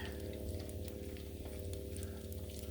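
Farmer John's bacon fries on a Blackstone griddle during Sunday brunch, a steady close sizzle with constant fine crackling and a few sharper pops. Quiet, even and unbroken, with no talking.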